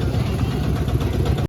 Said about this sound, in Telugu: ఇప్పుడు కూడా మీకు వినిపిస్తుంటాయి మొత్తం ట్రాఫిక్ సౌండ్